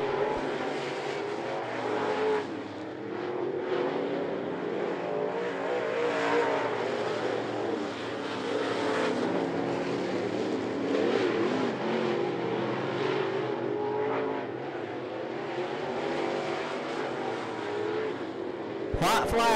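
Race cars running a heat race at I-75 Raceway, engines droning and revving steadily from a distance, with an announcer talking over the noise.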